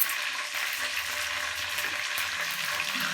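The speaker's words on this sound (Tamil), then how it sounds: "கடுகு நல்லா பொரிஞ்சிருச்சு." Mustard seeds spluttering in plenty of hot oil while making tomato thokku, a dense, steady crackle of tiny pops holding at an even level throughout, close and with no voices.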